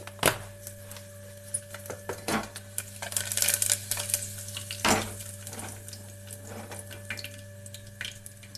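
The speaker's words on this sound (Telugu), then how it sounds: "తర్వాత మనం కట్ చేసుకున్న ఉల్లిపాయలను వేసుకోవాలి." Chopped onions crackle and sizzle in hot oil in a pan with bursts of louder spitting and a few sharp clatters, a steady low hum underneath.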